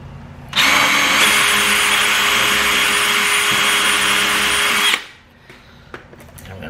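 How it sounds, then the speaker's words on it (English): A power drill pre-drilling a hole while building a cornhole game whines steadily for about four seconds at close range, then stops, leaving a few light knocks. "So first, I pre-drill my hole."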